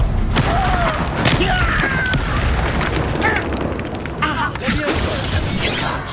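A Confringo blasting spell fires during combat in Hogwarts Legacy, with loud booms, shattering crashes and whooshing bursts in quick succession. A voice talks over the dense, chaotic battle sounds.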